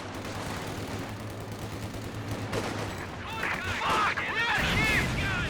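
Gunfire from a Company of Heroes 2 online battle: a continuous rattle of shots and small explosions with a steady low drone beneath it, growing denser and louder toward the end. Talk runs faintly under the shooting.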